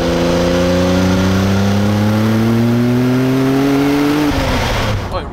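Jaguar XJ220 engine accelerating hard, its loud rising pitch climbing steadily for about four seconds before an upshift drops the revs.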